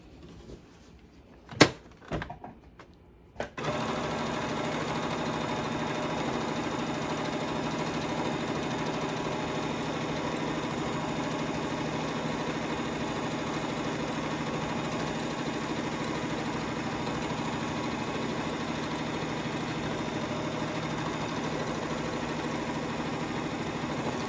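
After a few clicks and knocks, a sewing machine runs continuously at a steady hum while double-stitching a crash bag, close and unbroken to the end.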